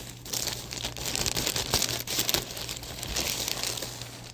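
A plastic bag package being torn open during an unboxing, continuous close crinkling and ripping of plastic with a low steady hum underneath, no talking.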